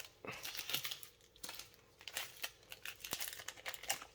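A Yu-Gi-Oh Rush Duel display box is unwrapped, its packaging giving off faint, close crinkling and rustling in irregular bursts.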